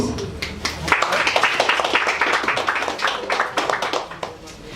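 Applause from a small audience at a spoken-word poetry performance: dense, fairly close clapping that runs steadily for several seconds with no talk, thinning slightly toward the end.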